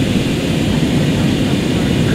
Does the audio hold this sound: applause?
no